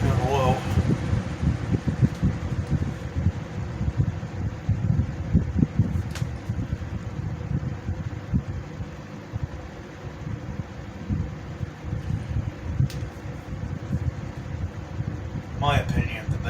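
A restored 2009–2010 Lasko 3733 box fan runs with a steady broadband whoosh of moving air, holding at a constant level for the whole stretch with a few faint clicks and no talking.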